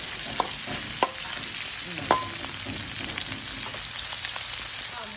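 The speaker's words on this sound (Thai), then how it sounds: "ใส่หมูก่อน แล้วก็คนหมูให้หมูสุกก่อน" Pork sizzles steadily in a hot pan while a utensil stirs it, with three sharp scrapes and clicks against the pan standing out over the constant frying hiss.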